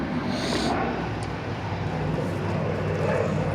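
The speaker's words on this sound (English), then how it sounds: "wait for the airplane to go by." Fixed-wing airplane flying overhead at night, a steady broadband engine drone that stays loud and fairly close throughout, with no talking.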